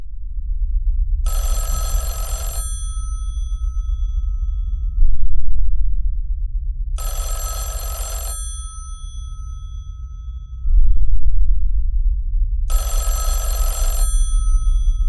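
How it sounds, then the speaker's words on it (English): Telephone bell ringing in a PS1 horror video game, three long bursts of loud electronic ringing separated by pauses over a steady low hum, with two short clunks between rings. "Phone's ringing?"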